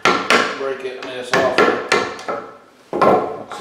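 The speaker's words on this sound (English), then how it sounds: "Sometimes you just take your hammer" Sharp, ringing hammer taps on a flathead screwdriver used like a chisel, about six strikes at an uneven pace, loud and close with no talking, while building a heavy-duty wood gate.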